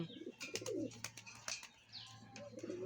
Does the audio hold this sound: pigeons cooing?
yes